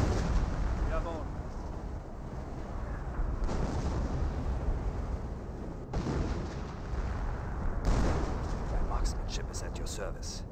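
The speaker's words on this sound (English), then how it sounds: "Another blind barrage there" Dense artillery barrage in the Company of Heroes 1 strategy game, with continuous rumbling explosions and blasts layered over each other, a sharp onset near six seconds and crackling impacts later, with someone talking throughout.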